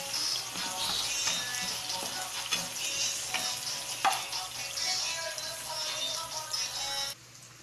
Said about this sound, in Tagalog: Yan, igisa lang muna natin siya hanggang lumambot, no?